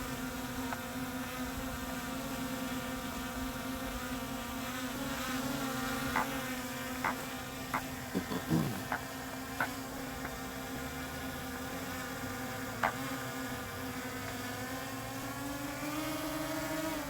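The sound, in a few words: DJI Mini 5 Pro drone buzzing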